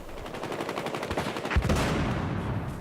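Rapid gunfire during a Battlefield Hardline multiplayer match, dense automatic bursts crackling in quick succession with a heavier shot near the middle, loud and continuous with no talk over it.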